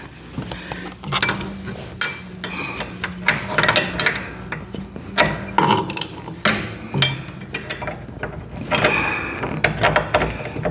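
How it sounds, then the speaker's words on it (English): Metal parts clink and knock up close as the belt keeper bar goes back onto a Z920m mower deck, a string of irregular taps, scrapes and rattles from tools and hardware. "we're ready to put our belt keeper little bar back on"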